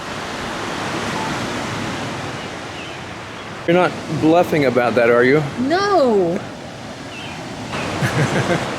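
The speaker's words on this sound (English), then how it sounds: "Those waves look pretty aggressive for Lake Michigan here." Waves break on the Lake Michigan shore at Lake Bluff, making a steady broadband surf roar throughout. Voices talk over the wash in the middle and near the end.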